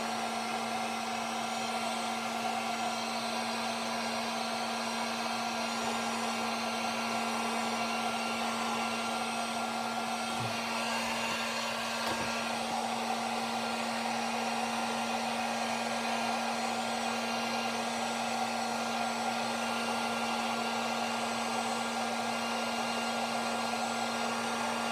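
A hair dryer runs continuously on an action figure's plastic packaging, a steady close whirring blow with a constant hum and a faint brief disturbance midway.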